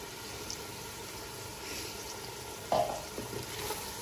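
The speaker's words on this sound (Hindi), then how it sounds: "अब इसको 4-5 मिनट तक मसाले के साथ हमने अच्छी तरह से भूनना" Tomato paste frying with spices in oil, heard as a quiet, steady sizzle with a short sharper crackle partway through and no talking.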